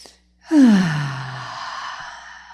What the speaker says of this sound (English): Take a nice breath in.